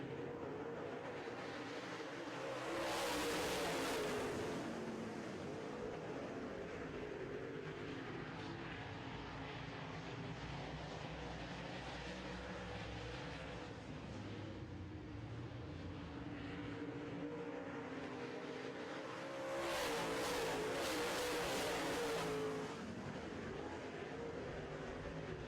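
Late model stock cars rumble around a short oval track during a heat race at the green flag, a continuous engine roar that swells loudly as the pack passes at about 3 and 20 seconds, with a steady drone in between.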